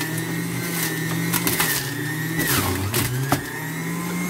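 Juicer grinding cucumber, parsley and celery for green juice, a steady loud motor whir with a few rattling bursts as pieces feed through, no talk.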